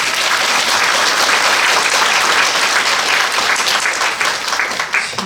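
An audience at an education forum applauding teachers and principals, loud continuous clapping from a full room that holds steady for several seconds before easing slightly at the end.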